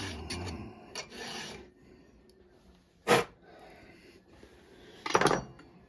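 A hand file strokes across a chainsaw cutter tooth in a few separate close rasping passes, each a short harsh scrape with quiet gaps between them.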